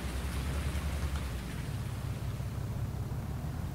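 Steady rain hisses as a dense, even wash in the Farming Simulator 19 video game, loud and constant throughout with no talk.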